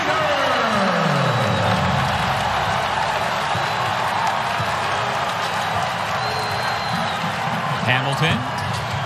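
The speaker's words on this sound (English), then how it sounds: "Hamilton can't quiet the crowd" Loud arena crowd at a Western Kentucky vs. Louisville men's college basketball game roars and cheers in a sustained swell after a slam dunk, with sneaker squeaks and a commentator's voice running underneath.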